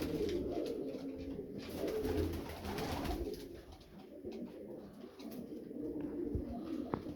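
Pigeons coo steadily and close by, a continuous layered murmur of several birds with no pauses, no talking.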